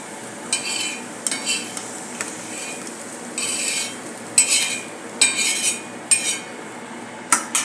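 Onion roasting in a pan for a green moong vadi gravy, with a spoon repeatedly scraping and stirring in quick irregular bursts over a soft sizzle, close and fairly loud.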